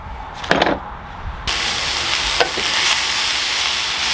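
Food hits a hot cast iron pan and bursts into a loud, steady sizzle after a few clinks and stirring sounds, close and continuous.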